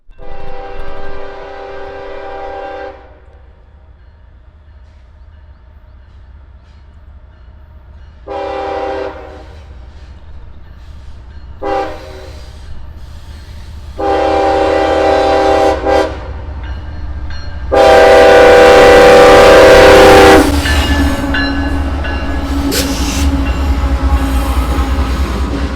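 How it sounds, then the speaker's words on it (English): A CSX freight train, the daily M457 manifest between Georgia and Orlando, Florida, rumbles past loudly with wheel and car noise throughout, sounding several separate horn blasts that build to a long, very loud final blare near the end. "This was CSX train M45711 going from Whitecross, Georgia to Taft, Florida in Orlando."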